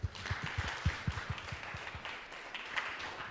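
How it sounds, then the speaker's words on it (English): Audience applause for students at an arts medal ceremony, with a few close, distinct hand claps over a softer bed of crowd clapping that thins out toward the end. "give them a round of applause"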